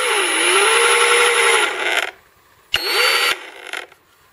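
Kobalt 6-inch variable speed cordless random orbital polisher running at its lowest speed setting, a steady close whir that dips in pitch as it slows, stops, then starts again briefly before spinning down.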